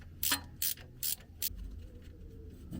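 A ratchet works a seized, rusted nut off a VW T25 Vanagon 1.9 water-cooled boxer engine: four quick, close clicking bursts in a row, then a quieter stretch with a last faint click.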